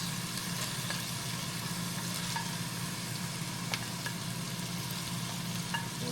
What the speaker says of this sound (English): now we can throw in our onions